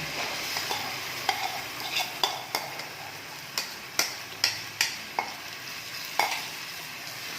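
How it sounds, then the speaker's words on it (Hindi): Ground boiled tomatoes fry with spices in hot oil, a soft steady sizzle punctuated by regular sharp scrapes and clicks of a spoon stirring against the pan, with no voices. "अब इन टमाटरों को हम इतना भूनेंगे कि तेल मसाले से अलग हो जाए"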